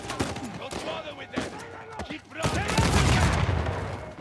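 Gunfire in the video game Uncharted 4 during a prison escape: scattered sharp shots give way to a sustained, loud barrage of automatic fire, with brief voices under the action.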